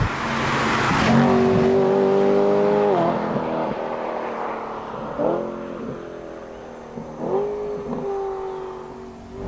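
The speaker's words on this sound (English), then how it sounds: "you're getting this car for the beautiful noise it makes" A BMW E90 M3 with DCT gearbox revs hard, rising and falling in pitch through several sharp throttle blips, loud and close, with no talking.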